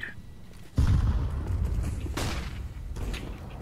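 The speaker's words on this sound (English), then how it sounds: "Throwing a grenade." A grenade blast in Counter-Strike: Global Offensive hits with a sudden heavy boom, then a long low rumble and rattling debris that keep going to the end.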